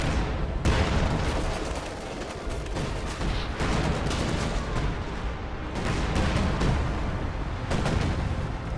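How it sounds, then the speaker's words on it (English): Mechanized artillery barrage in a real-time strategy war game, a loud, sustained stream of rapid explosive shots and booms with repeated sharp impacts across the whole stretch. "Mechanized artillery gets dropped on the bunker city and almost destroys 3 of them."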